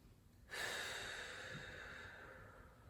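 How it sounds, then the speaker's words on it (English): One long, airy inhale during a gentle beginner yoga pose, starting abruptly and drawn out steadily, close and soft, with no talking. "Take a breath in."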